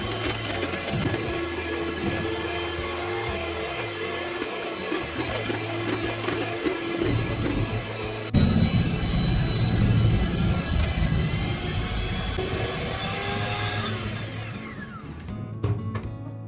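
An electric mixer whirs steadily through eggless strawberry cake batter until it is smooth. The whine is loud and continuous, shifts in pitch and intensity partway through, and no one speaks.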